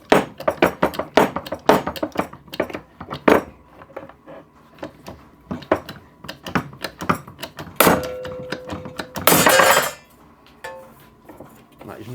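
Vevor 15 ton hydraulic hole punch working 1.5mm stainless steel gives a run of sharp metallic clanks and clicks, closely spaced then sparser, with a brief louder burst of grinding noise near the end.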